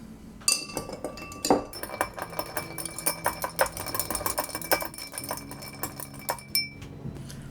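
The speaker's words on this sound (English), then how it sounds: "Let's give it a stir." A bar spoon stirs a gin martini over ice in a glass, making rapid close clinking and chinking that keeps up steadily throughout, with no talking.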